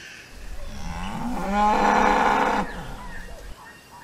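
Cattle mooing: one drawn-out, loud bovine moo swelling in the middle of the clip and tailing off, heard close and alone.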